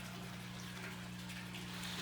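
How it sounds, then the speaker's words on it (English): Water trickles and gushes steadily out of the bottom drainage holes of a plant pot after watering, a continuous close splashing flow over a low background hum. "you know you're done watering it when water starts to come out of the very bottom holes in the pot"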